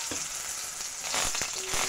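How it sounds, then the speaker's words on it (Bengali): Boiled potatoes frying in a pan of hot oil, a steady close sizzle throughout with a few soft scrapes and knocks of a spatula, growing slightly louder near the end. "এখন সেটাকেও একটু ভেজে নেব।"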